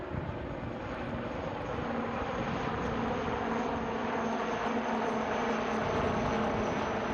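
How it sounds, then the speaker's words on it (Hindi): A Kamov Ka-31 naval helicopter flies past during a fly-past at Miramar in Panaji, Goa, its engine and rotors a steady, loud drone that builds slightly through the clip, heard without speech. "अब आ रहे हैं आपकी बाईं ओर से नौसेना के आई in the sky the falcon Kamov 31 helicopter"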